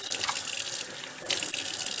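Fresh tap water runs steadily into a sink to soak a cleaned squirrel, a close, continuous splashing flow with slight surges and no talking.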